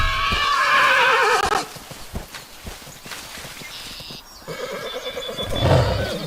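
A horse in the Roblox game Ecos La Brea neighs loudly, then hooves clop and shuffle in the background before another whinny rises near the end.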